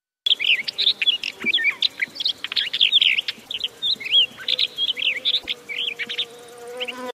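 A black wheatear (Oenanthe leucura) calls repeatedly, producing clear, bright, warbling chirps in quick bursts close to the microphone, with faint background hiss.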